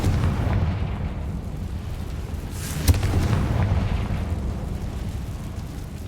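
Confringo explosive spell cast in Hogwarts Legacy, a deep booming rumble with a sharp burst near the middle, sustained and loud throughout.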